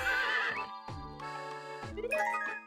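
A horse in the video game Miitopia neighs in a couple of bright, close whinnies, with short snorting breaths between them and no speech.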